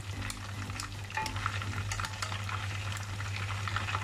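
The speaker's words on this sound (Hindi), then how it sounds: "इसको तकरीबन 5 मिनट और फ्राई करेंगे" Korean-style fried chicken pieces frying in hot oil, a dense continuous crackle and bubbling with a low steady hum beneath, close and without talk.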